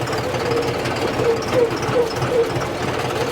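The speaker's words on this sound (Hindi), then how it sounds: "ये हो गया अपना ट्रैक्टर बैक। अब मैं इसको चलाता हूँ आगे" A John Deere tractor's diesel engine runs with a steady, rhythmic knocking pulse, moderately loud and continuous throughout.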